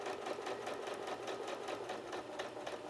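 Sewing machine running a standard stitch for quilting, a steady, fast rhythmic whirring chatter heard close and fairly quiet, with no talk.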